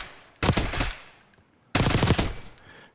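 Two loud bursts of rapid automatic gunfire at a firing range in Call of Duty Black Ops 6, each lasting about a second, separated by a short quiet gap, with no talk over them.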